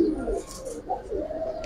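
Giribaz pigeons kept as show birds coo softly in a low, throaty, rolling murmur, several overlapping calls close by against a steady backdrop, with no talking.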